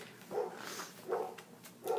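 Pet dogs bark indoors in a short rhythmic series, three fairly faint yaps spaced about a second apart, with a low room hiss between them.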